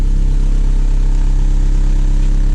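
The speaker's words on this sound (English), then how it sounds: "if you put a Type S oil pump in the 9th gen, expect it to rattle. It shakes everything up in low RPM." A 9th generation Honda Civic engine idles at around 1,000 RPM with a Type S oil pump fitted, producing a steady, loud, even hum with a low, continuous drone and no voices.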